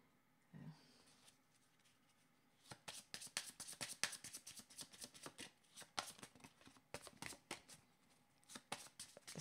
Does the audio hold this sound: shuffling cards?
yes